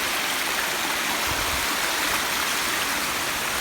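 A waterfall at a 9/11 memorial in Mt. Sinai, New York, pours steadily with a dense, continuous rush of falling water, close and even throughout with no voices.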